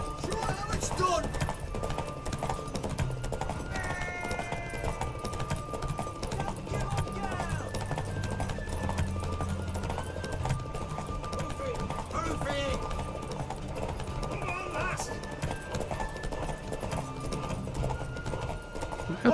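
Horse hooves clip-clopping in The Witcher 3: Wild Hunt, a steady rhythmic trot under game music and voices, with a brief neigh-like tonal sweep.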